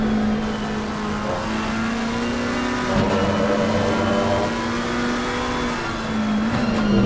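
Race cars, a McLaren and an Audi, running nose to tail at Circuit of the Americas (COTA) produce a loud, sustained engine drone with slight pitch rises and dips as they shift and accelerate, close and without speech.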